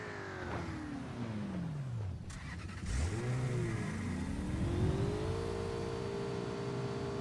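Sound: car engine revving in a video game

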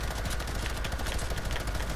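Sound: gunshots in Fortnite video game

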